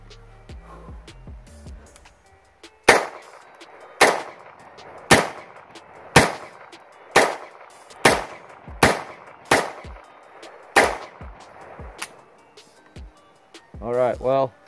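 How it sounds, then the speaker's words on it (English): Single shots from a Tennessee Arms Tac-9 AR9 rifle fired downrange, about nine sharp loud reports at roughly one-second intervals, with brief talk before and after. "We're gonna shoot some rounds down range and see how this holds up."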